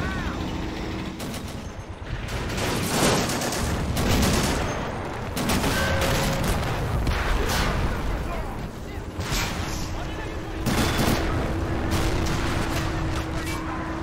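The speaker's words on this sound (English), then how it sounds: "We got artillery coming in on us too." Artillery barrages and heavy gunfire from the Men of War Assault Squad 2 strategy game's Pacific war battle for Clarence Hill, with booms and rumbling blasts filling the whole stretch as a steady loud wash of combat noise.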